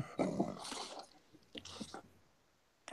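A dog growling and whimpering indoors in short bursts, close and fairly quiet, with pauses between the sounds.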